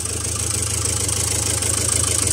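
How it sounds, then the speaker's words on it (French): A car engine idles steadily just after a repair, a close, even low rumble with a constant rhythmic pulse and faint high whine, no talk over it. "le véhicule tourne bien"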